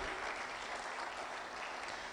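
Conference audience at an international meeting on African development issues, applauding in a dense, even patter of many hands, steady and moderately distant for a couple of seconds.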